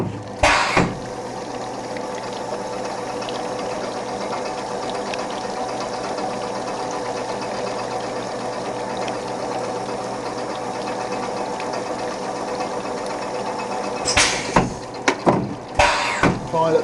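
An EMI-MEC E Sprint machine runs close up with a steady mechanical whir and rapid rhythmic vibration, punctuated by sharp clunks and knocks near the start and again toward the end.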